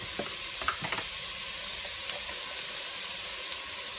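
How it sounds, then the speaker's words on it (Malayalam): Onions frying in a pan, sizzling with a steady hiss while a spoon stirs them in a few quick scraping strokes, close and moderately quiet, with no talking. "ഒന്ന് ഇളക്കി കൊടുക്കാം."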